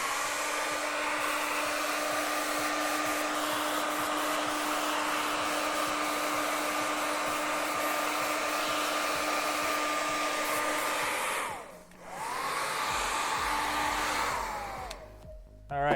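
A hair dryer blows steadily and loudly at close range, drying paint on a custom-painted hoodie, then briefly cuts out near the end before running again.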